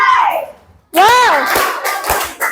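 Schoolchildren in a classroom perform a chanted clap routine: young voices call out in sing-song shouts, punctuated by a few sharp group claps and thumps.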